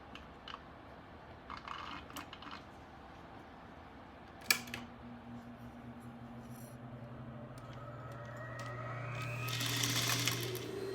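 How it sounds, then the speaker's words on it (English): A sewing machine starts stitching along a fabric hem beside an embroidery hoop, its motor whirring up steadily after some quiet handling clicks and rustles. "And then I'm going to start sewing all the way along this edge here."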